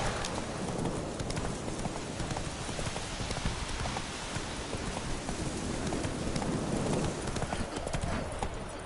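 Roach, a horse in the video game The Witcher 3: Wild Hunt, trots with a dense run of hoof clip-clops over a hissing background like rain.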